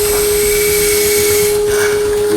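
A dental implant drill works at an open implant socket, removing soft tissue: a steady, continuous high-pitched whine with a constant hum, loud and close throughout.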